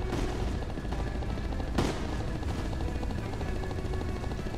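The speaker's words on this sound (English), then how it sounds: "And the helicopter goes down yet again." A helicopter goes down in the shooter game Heavy Fire: Shattered Spear, a dense continuous roar of rotor and battle noise with rattling gunfire and one sharper impact midway.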